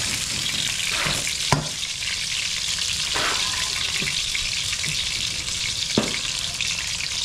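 Vegetables fry in hot oil with a constant loud hiss and crackle, broken by a few sharp stirring clacks of a utensil, close up and with no talking.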